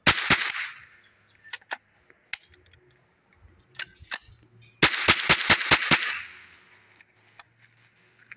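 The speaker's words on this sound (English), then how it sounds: "Alright, well that was the mag dump." Gunshots fired at an audio speaker in a magazine dump: sharp, loud cracks, scattered single shots at first, then a quick burst of about six in rapid succession, with quiet gaps between.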